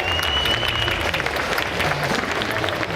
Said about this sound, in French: on peut applaudir Romain qui a super bien joué.